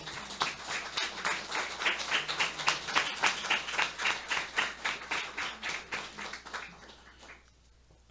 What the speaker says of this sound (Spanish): Quiero pues que le regalemos un aplauso a este hombre y a su hija.